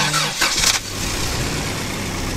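A Subaru engine, hot-wired by shorting wires, cranks in a short burst and then settles into a steady low rumble, close and loud.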